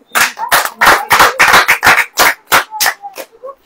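A church congregation claps in a quick, steady rhythm during a Hindi sermon, about a dozen loud, close hand claps in a row.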